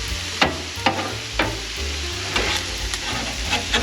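Vegetables sizzling in a pan on a propane cooktop, a close steady hiss broken by repeated clanks and scrapes of stirring, over a low rumbling hum.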